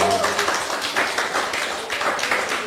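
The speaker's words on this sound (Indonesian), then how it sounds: "Ayo tepuk tangan dong." A congregation claps together during a Sunday church sermon, a dense, steady run of hand claps filling the room at close to mid range, with voices mixed in.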